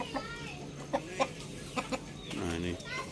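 Indio Gigante chickens in a village coop cluck close by in short repeated bursts, with some longer, drawn-out calls. A voice speaks faintly underneath.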